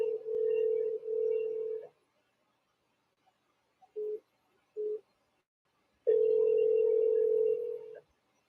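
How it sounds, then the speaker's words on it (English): Ringback tone on a call-in phone line: two long steady buzzes, a pair of short beeps, then another long buzz, clean and fairly quiet with nothing else behind them. "Ringing."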